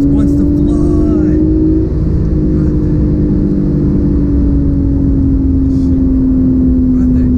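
A twin-turbo Porsche 911 accelerates hard with a loud, continuous engine drone whose pitch climbs, then settles into a long sustained pull. A voice speaks briefly over it.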